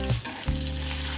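Cumin seeds, red and green chilies, hing and curry leaves sizzle in hot oil for a tadka, a steady close crackling hiss with brief pops and no voices.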